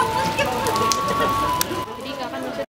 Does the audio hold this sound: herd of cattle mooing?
no